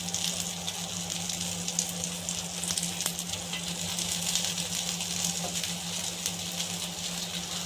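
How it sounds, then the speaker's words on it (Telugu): Mutton chops fry in a hot pan, giving a steady close sizzle and crackle with a low hum underneath that runs evenly for nearly eight seconds, with no talking. "ఈ పెను వేడెక్కింది. మనము ఈ చాప్స్ అనే దాన్ని పెట్టి"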